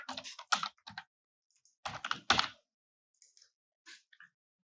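Bursts of typing on a computer keyboard while a product listing is entered, with a manufacturer name for a bamboo steamer typed in. The key clusters come close and fairly loud, broken by pauses and a few sparse, quieter taps.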